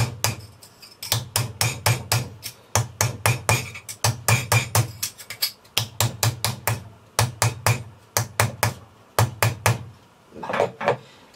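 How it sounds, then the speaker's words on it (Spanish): A nylon hammer flattens a metal piece resting on a mat, striking in quick rhythmic clusters of dull, close taps with short gaps between bursts, and no speech. "Lo apoyamos siempre sobre una alfombrilla para no hacer mucho ruido y con el martillo de nylon"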